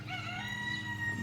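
A rooster crows outdoors among chickens, one drawn-out crow ringing clearly but somewhat faintly from a short distance, with no talking.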